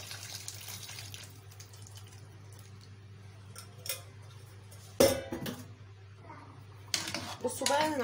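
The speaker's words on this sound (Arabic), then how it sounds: "انا زودت هنا كوبايتين ميه بالظبط على كميه البطاطس بتاعته" Water poured into a cooking pot of potatoes on the stove, splashing and trickling in short bursts against the pot with metallic knocks and clinks, someone talking between pours.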